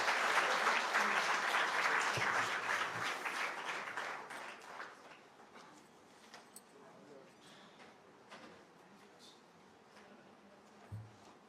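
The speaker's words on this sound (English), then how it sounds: "Please welcome ma'am with a huge round of applause." Applause from a lecture audience at an academic endowment lecture rises loud at first, then thins and fades into scattered claps and room noise, with a voice speaking under the tail.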